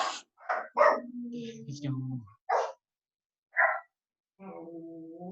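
A dog barks at someone outside the house while neighbours have siding redone, giving several sharp, close barks and yips in quick bursts separated by short silences, with a person speaking briefly between them.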